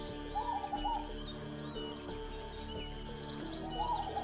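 Wild-type local Javanese forest zebra dove (perkutut) of the wali group cooing; soft repeated coos come at a moderate distance over a steady low hum, with faint chirps from other birds.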